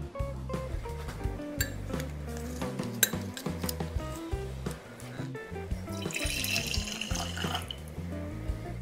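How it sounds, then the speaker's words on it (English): Raspberry leaf tea is poured into a glass pitcher in a kitchen, with running liquid, clinking glass and utensil knocks in an irregular, close, moderately quiet sequence. "now I'm going to remove the tea bags and pour this mixture into the glass pitcher"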